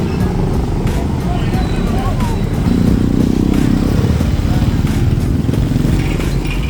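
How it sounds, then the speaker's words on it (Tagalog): Motorcycles and cars move through busy traffic with a loud, steady engine rumble close by, while people's voices come and go over it. "Okay, traffic."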